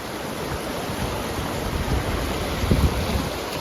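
River water rushing steadily at a Sierra Nevada crossing on the Pacific Crest Trail, a continuous broadband wash with wind buffeting the microphone and a few louder splashes near the end.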